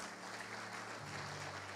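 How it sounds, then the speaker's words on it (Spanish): Church congregation clapping together during a sermon, a steady wash of applause held at an even level through the short span, with organ or keyboard notes sustained underneath. "Dele palmas a Cristo."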